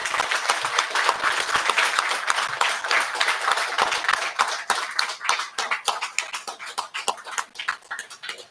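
Loud applause at a stage performance of the play Panchlight, as the actors clap for the seated audience; dense clapping that thins into scattered individual claps toward the end.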